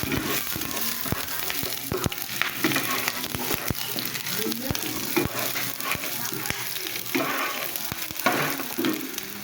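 Onion and garlic sautéing in a pan, a dense continuous sizzle with frequent scraping stirs and sharp spatula taps close by, steady throughout.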